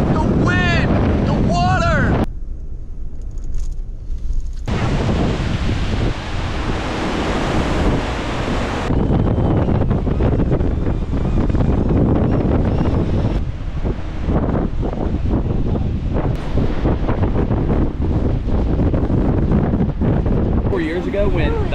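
Hurricane Nicole's wind and surf at Satellite Beach, Florida, heard as a loud, constant roar of gusting wind buffeting the microphone over crashing waves, with voices talking intermittently.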